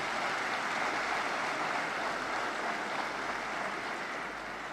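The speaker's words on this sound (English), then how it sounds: "Let's give a round of applause for that." A dense, steady wash of audience applause fills a large hall at the Nuclear Energy Innovation Summit for Africa, sustained and even throughout, with no voices standing out.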